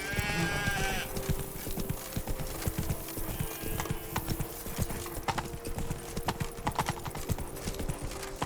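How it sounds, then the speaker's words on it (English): The horse Roach galloping in The Witcher 3 video game, rapid rhythmic hoofbeats pounding steadily throughout, close and prominent, with a brief whinny-like tonal sound at the start. "Run, Roach."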